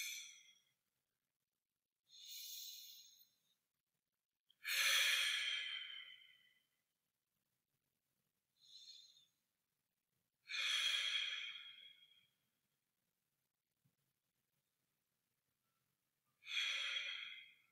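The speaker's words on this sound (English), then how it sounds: "inhale, breathing length up the base of our spine" Slow, deliberate exhales through the mouth during a restorative yoga breathing exercise, five or six long soft breaths spaced a few seconds apart in a quiet room, with no talking.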